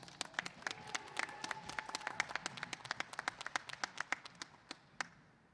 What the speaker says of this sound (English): bring up to the microphone with a nice round of applause, Papoose